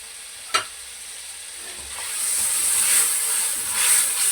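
Green chillies and ginger go into a hot pan for a beef ginger masala: a sharp utensil clink, then a steady sizzle and hiss that swells and holds, close and fairly loud, with no voices.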